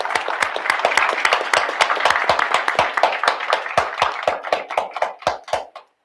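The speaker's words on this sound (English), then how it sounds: "Let's give him a round of applause." A small crowd at a school board public session gives a round of applause. Distinct hand claps start dense and lively, thin out into fewer separate claps and then stop.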